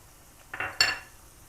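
Mushrooms and two spoonfuls of flour being stirred and roasted in a pot for creamy mushroom soup, giving a couple of short scraping, clinking utensil strokes against the pot over a quiet background.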